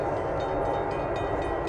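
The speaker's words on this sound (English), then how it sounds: "Sign said trains come very fast here," A train rolling past a trackside spot in Dalton, Massachusetts, on a fast stretch of line, making a steady, loud, continuous rumble and roar that holds at an even level with no talk.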